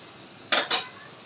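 Two quick metal scrapes of a spoon against a pan stir eggplant together with fried dried fish and onion, loud and close against a quiet background.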